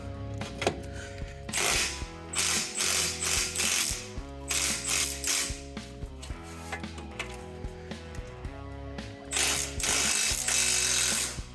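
A ratchet wrench turns the bolts holding a shock absorber on a large car's suspension, giving close, steady runs of quick clicking that pause briefly and then resume.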